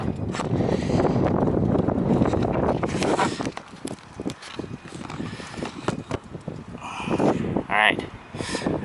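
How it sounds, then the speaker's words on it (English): Wind gusting against a camera microphone outdoors, a loud, continuous low rumble that eases in the middle and surges again near the end. "the wind is blowing."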